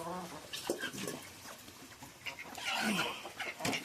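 Chickens and ducks at feeding time, with soft clucks, short squawks and scattered calls close by, fairly quiet and broken by small shuffling noises.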